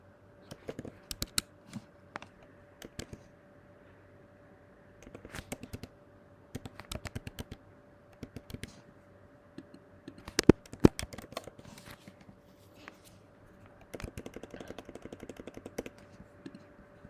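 Computer keyboard keys typed in short irregular bursts with pauses between, close and clear, entering data into a spreadsheet with no one talking.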